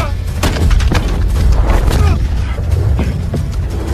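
A high-powered weapon fires in a film action scene, setting off a series of heavy booms and crackling blasts with debris, all loud, close and overlapping, while a voice talks underneath.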